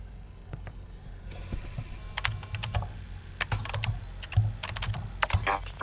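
Keys clatter at a computer terminal in the game Event[0], irregular bursts of quick clicks over a low background hum, with brief pauses and a faster flurry near the end.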